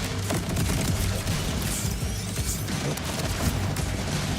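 Dense, continuous gunfire from Borderlands 4 during melee-focused combat, a steady barrage of overlapping shots and impacts filling the whole stretch with no pauses.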